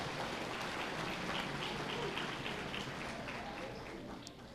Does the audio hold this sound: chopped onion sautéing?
no